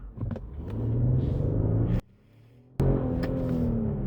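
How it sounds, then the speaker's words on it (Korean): A Genesis GV80 Coupe Black Edition accelerates hard in Sport Plus mode, its engine giving a deep, loud, rising rumble from inside the cabin that cuts out briefly before resuming just as strongly. "지금도 신호등 레이스 약간의 급가속을 한번 해볼게요"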